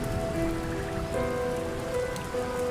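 Heavy rain pours down in a dense, steady hiss and patter that holds evenly throughout, with no voices over it.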